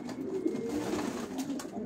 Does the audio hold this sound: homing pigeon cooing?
yes